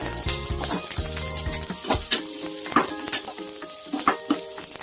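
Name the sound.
onions frying in a pan on high heat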